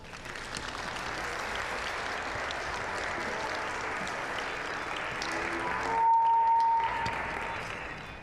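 A church congregation at a family Yule service applauds steadily for about eight seconds to welcome La Befana, a dense, even wash of clapping that swells slightly near the end.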